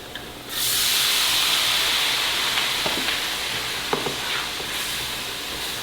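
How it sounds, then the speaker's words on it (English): Vegetable broth poured into a hot pan bursts into a loud, steady steaming sizzle that starts abruptly and holds, with faint clicks of stirring over the hiss and no talking. "I'm going to add some vegetable broth. I'm going to add about a half cup first."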